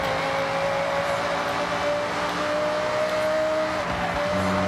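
A V10 Audi R8 GT RWD in Forza Horizon 6 drones steadily at high revs, a loud sustained engine note with a slight pitch shift near the end, no talking.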